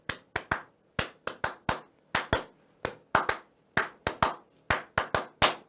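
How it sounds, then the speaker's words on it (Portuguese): Sharp hand claps from a church congregation ring out in an irregular series, loud and close, with short gaps between bursts. "O pessoal começava batendo palmas."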